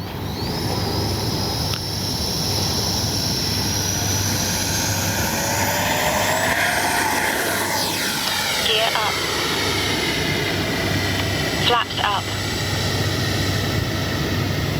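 A loud, whining jet engine of an RC model L-39 jet roars steadily with a rising tone as it accelerates for takeoff, while a person speaks briefly over the noise.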